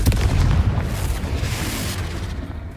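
Confringo fire curse explosion in the Hogwarts Legacy video game, a loud booming blast with a rumbling burst that fades over a few seconds.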